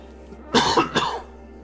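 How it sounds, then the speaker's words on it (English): A man gives two short, sharp coughs close by, one right after the other, with nothing else heard around them. "Got that cough, man."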